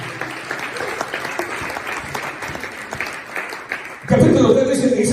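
A congregation at a Spanish-language church service claps under a preacher's voice, and the clapping then swells into a loud, sustained burst of applause near the end.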